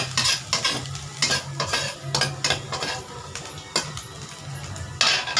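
Garlic and butter cooking in a pressure cooker make a steady, close sizzle. A spoon scrapes and stirs against the pot in repeated bursts over the frying.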